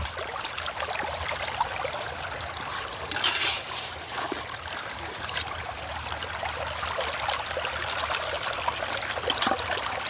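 A stream of water flows steadily through a sluice box lined with rib matting during outdoor gold prospecting, a continuous close trickling wash with small splashy surges and no talking.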